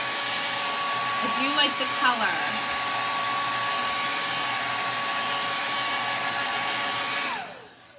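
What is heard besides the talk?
blow dryer drying chalk paint decor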